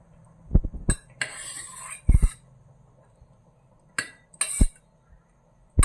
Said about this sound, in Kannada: ಈಗ ಕ್ಯಾರೆಟ್ ಕೂಡ ಬೆಂದಿರೋ ಕ್ಯಾರೆಟ್ ಕೂಡ ಹಾಕಿ ಬೆರೆಸ್ಕೊತಾ ಇದ್ದೀನಿ